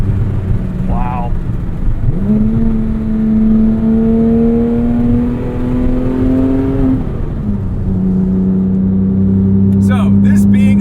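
A Porsche 997.1 911 GT3 with a naturally aspirated 3.6-litre flat-six Mezger engine drives along a canyon road, revving up through gears with rising pitch, loud and close from inside the cabin, with a voice talking over it.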